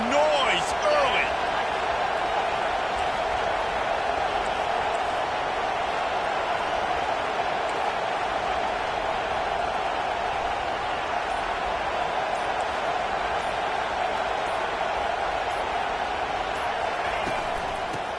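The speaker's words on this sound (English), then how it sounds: "This crowd bringing the energy and noise early" Crowd noise at an NCAA football stadium, a dense, even roar that stays loud throughout, with a commentator speaking over it and a few faint thumps.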